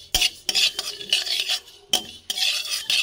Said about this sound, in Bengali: পানমৌরিগুলো ভেজে নিচ্ছি হালকা করে।